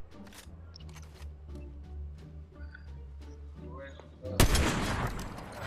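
Rapid bursts of gunfire in a shooter video game crackle over a steady music bed, with a louder, denser volley of shots near the end.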